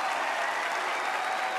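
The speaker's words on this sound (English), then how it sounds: "Give a big round of applause, and thank you." Dense, continuous applause from a talent show audience during a hypnotist's act, loud and unbroken throughout the short stretch.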